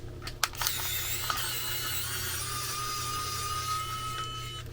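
A small rechargeable electric screwdriver motor whirs steadily and quietly for a few seconds, with a thin high whine and a few light clicks near the start.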